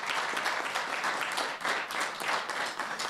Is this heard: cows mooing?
no